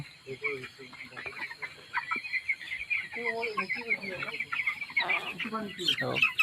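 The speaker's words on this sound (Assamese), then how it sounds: "সুস্থ পোৱালি এতিয়া দানা খাই আছে ধুনীয়াকে, পানী খাই আছে।" Young chicks cluck and peep steadily while pecking at grain and drinking water, a busy, close flock chatter with a few sharper calls near the end.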